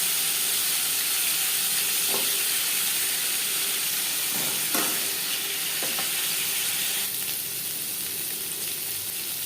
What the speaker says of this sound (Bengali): দু চামচ রিফাইন্ড অয়েল গরম করে নিয়েছি। এবার দিয়ে দেবো আলু।